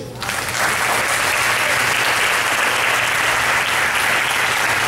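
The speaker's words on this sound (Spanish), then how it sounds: "Un aplauso de usted." Church audience applause during a pastor's sermon, a loud, sustained wash of many clapping hands that swells quickly and holds steady for several seconds, with no talk over it.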